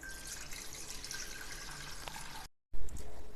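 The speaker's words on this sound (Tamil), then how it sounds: "இப்போ சுத்தமாக தண்ணியை வடிகட்டி எடுத்துக்குவோம்" Steady watery trickle and splashing as water drains from soaked rice, with a brief pause before the flow resumes more strongly.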